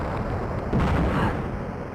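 Tank gunfire and explosions from the split-screen capture-the-flag video game Return Fire, a dense continuous rumble of booming shots with one heavier blast midway, no talk.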